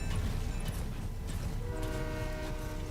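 A train in the video game Fortnite rumbles steadily and then sounds sustained horn tones in the second half. It plays alone at moderate loudness with no voices.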